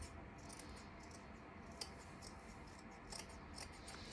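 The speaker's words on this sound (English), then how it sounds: "So I'm going to cut that part off too." Scissors cutting through thick fleece fabric, a series of soft, close snipping crunches at an uneven pace over a quiet background hiss.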